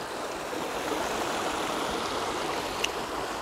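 Water rushing over a small waterfall-like spillway at Sasoi Dam in Jamnagar, a steady broadband splashing and gurgling flow heard fairly close and continuous, with no voices over it.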